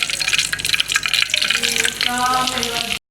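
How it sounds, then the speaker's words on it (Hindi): Semolina roasting in ghee in a pan and stirred with a spoon, a soft continuous sizzle with scraping stir strokes, close and steady throughout. "आपने इस तरह सूजी डाल के आस्ता आस्ता चमचा लाते रहना जब तक ये हल्की हल्की ब्राउन ना हो जाए"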